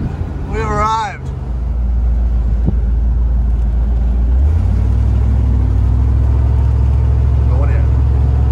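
Old Land Rover and Range Rover diesel engines idle and rumble close by on a muddy farm, a low steady drone that thickens and deepens as more vehicles pull in, with brief voices early on.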